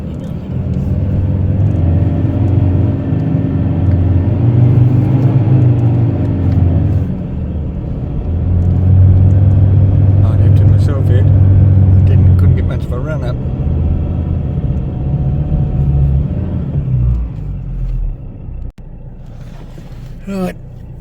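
A 4x4 climbing a sandy fire-break hill track in the Big Desert State Forest, Victoria, with tyres let down: a steady, loud engine rumble that surges and eases through the climb, with voices talking over it.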